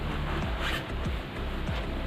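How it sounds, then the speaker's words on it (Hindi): A jacket zipper is pulled open during rain-riding preparation for a motorcycle trip, several quick rasping zip strokes up close over steady background noise. "ज़िप खोल के से अंदर कर लेंगे।"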